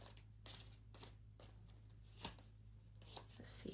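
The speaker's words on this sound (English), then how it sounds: "So let's shuffle your cards here and see what comes out." Tarot cards shuffled by hand, heard as a quick series of crisp riffling bursts close by, repeating in an uneven rhythm over a faint background hum with no speech.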